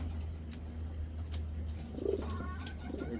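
Lahori pigeons coo in a cage at night under a light, giving a soft low coo close by over a steady low electrical hum, with a few faint rustles and clicks.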